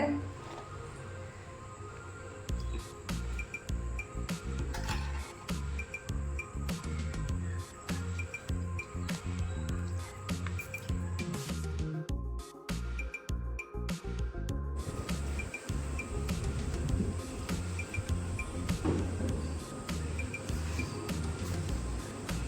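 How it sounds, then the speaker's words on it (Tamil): A pot of fish curry with mango bubbles on a stove outdoors, a continuous dense crackle of small pops and splutters at a steady moderate level. "அடுப்பில் இருக்குள்ளே மீன் குழம்பு அப்படியே கொதிச்சினே இருக்குது பாருங்க"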